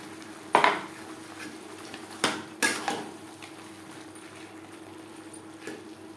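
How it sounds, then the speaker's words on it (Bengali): A metal spoon stirring aloo mutton curry in a pan over a high-to-medium flame, with a few sharp clinks and scrapes against the pan at irregular intervals over a soft background hiss. "হাই টু মিডিয়াম ফ্লেমে 4-5 মিনিট নাড়াচাড়া করে নেব।"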